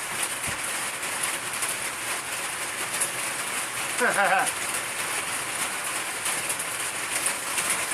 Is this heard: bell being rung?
no